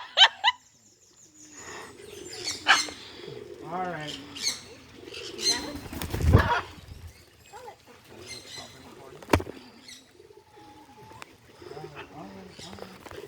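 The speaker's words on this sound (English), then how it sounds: "I don't know why we all start to talk to the bird." A pigeon at Harrison's Cave coos and chirps in soft repeated calls close by, while several people talk to it and a camera clicks once.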